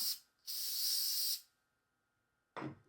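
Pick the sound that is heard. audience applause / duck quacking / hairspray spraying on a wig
hairspray spraying on a wig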